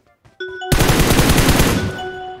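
Loud automatic weapon fire in PUBG Mobile, a dense continuous burst of shots erupting after brief quieter game sounds and holding steady to the end, with a faint tonal game sound running underneath.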